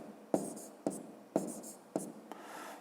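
A pen writes numbers on paper while adding columns in a fifth-grade math exercise, four distinct scratchy strokes at a steady pace, close and clear with no talk.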